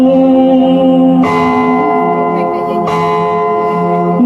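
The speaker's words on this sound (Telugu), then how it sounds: "గుడి గంటల" Church bells ring loudly at a church anniversary celebration in Patibandla, Guntur, their sustained resonant tones struck twice, overlaid by a devotional song with sung vocals.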